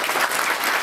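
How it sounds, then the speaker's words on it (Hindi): Guests at a Christian wedding ceremony break into loud, dense clapping to mark the completed marriage, a brief burst of applause from a nearby crowd. "शादी संपन्न होला के बधाई स्वरूप जोर से ताली बजाओ।"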